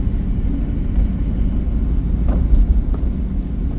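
A car drives through snow in a winter storm, a loud, steady low rumble of engine and road noise with a few faint ticks heard from inside the cabin, and nobody talks.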